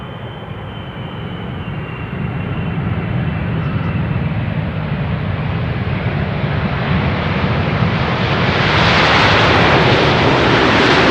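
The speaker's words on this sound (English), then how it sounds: "this is the Polderbaan, where this 777 is about to touch down" A Boeing 777 comes in to land on the Polderbaan runway at Amsterdam Schiphol, its engines a steady broad roar that swells louder and brighter toward the end as it passes close. No voices.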